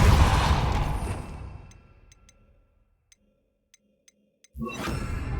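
The Depulso spell cast in Hogwarts Legacy: a loud rushing blast fades slowly into near silence broken by faint ticks, then another forceful burst erupts.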